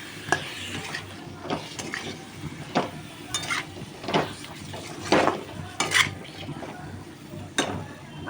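Raw mango pickle is stirred in a pan, with a spoon scraping and clinking against the metal in irregular strokes over a soft background hiss.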